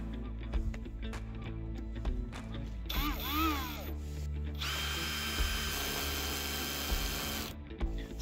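A Parkside Performance PPBSA 20 cordless drill in first gear and screwdriving mode, clutch at setting 1, whirs as it drives a screw into material. The motor pitch climbs and shifts through the run, then the motor drops off near the end.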